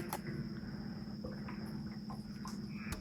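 Frogs call from out in the middle of a grassy area at night, a faint, distant chorus of steady trills with scattered soft clicks and rustles nearby, no voices.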